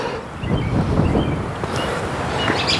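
Wind gusting across an open disc golf course beside a pond, a steady broad rush buffeting the microphone throughout, fairly loud and continuous with no voices.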